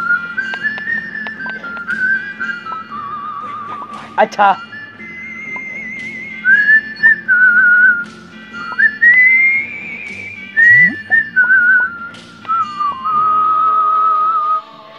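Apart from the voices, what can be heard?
person whistling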